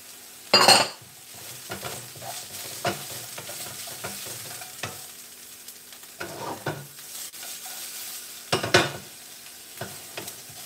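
King prawns and capsicum stir-frying in a pan, with a soft steady sizzle broken by scraping stirs and a few sharp clinks of a utensil against the pan, close by and with no talk.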